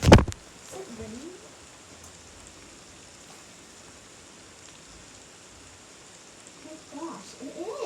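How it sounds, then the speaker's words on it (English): Steady rain falls during a thunderstorm, a constant soft hiss throughout, with brief voices at the very start and again near the end. "Is it raining?"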